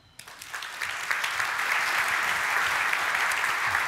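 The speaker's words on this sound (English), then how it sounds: "Please welcome, with a warm applause, Heiko Vainsalu." An audience at a Swedish digital government conference applauds to welcome a speaker, steady dense clapping that builds within the first half second and holds loud and even throughout.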